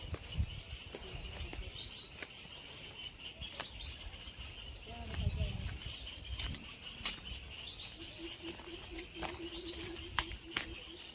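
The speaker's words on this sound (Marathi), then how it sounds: "पाखरांचा आवाज" Small birds chirp in open countryside fields where vegetables are gathered, with scattered short calls near and far over a soft outdoor ambience, and a steady insect-like trill joining near the end.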